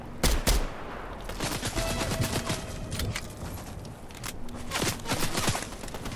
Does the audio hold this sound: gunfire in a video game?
yes